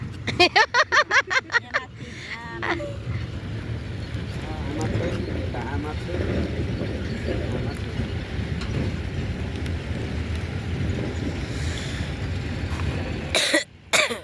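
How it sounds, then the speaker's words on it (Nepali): A burst of harsh coughs near the start, then steady low rumbling background with murmured voices, and another short cough near the end. "मलाई त के साह्रो चिसोले पकिन्छ भने अब खोकी लान थालेको।"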